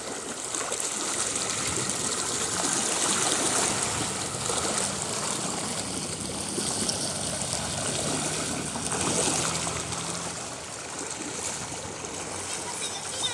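A flooded mountain river in Nuwakot rushing in spate, a steady broad roar of churning water that holds on throughout with small surges.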